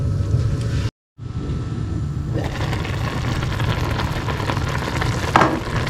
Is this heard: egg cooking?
yes